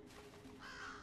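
A crow caws faintly in the Thief video game, a short, harsh call rising over a quiet ambient background.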